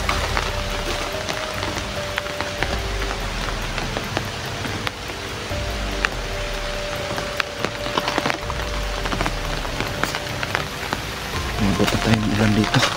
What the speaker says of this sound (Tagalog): Inabot na tayo ng ulan dito.